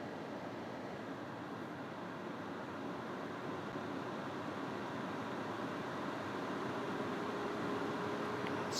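A Stadler Form Roger HEPA air purifier runs at top speed 5, producing a steady, dense broadband rush of air that stays constant and fairly loud, with no voices.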